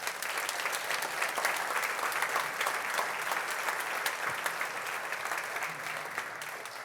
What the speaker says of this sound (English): I'll give you a little applause.